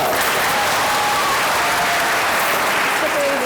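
Loud, dense audience applause at a televised Urdu poetry verse competition, a continuous roar of clapping filling the hall close up for several seconds without a break.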